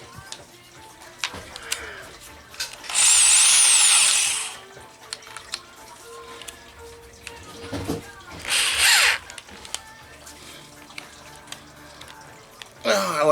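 A Craftsman cordless drill boring into an antler while a ferro rod is made, heard as two loud, close whirring bursts of a few seconds each, separated by quieter handling noises.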